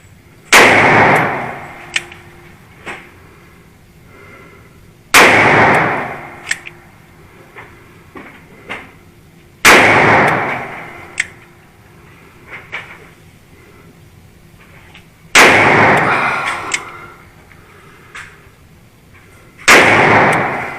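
Five sharp, loud gunshots from a Smith & Wesson Model 28-2 Highway Patrolman revolver, fired singly at an outdoor range several seconds apart, each blast followed by a short echoing tail, with faint clinks between shots.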